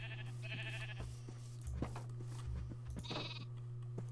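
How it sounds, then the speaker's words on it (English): Baby sheep bleating in Minecraft, several short nasal bleats at a moderate level over a steady low game hum, with no talking. "Yay, we have a baby sheep."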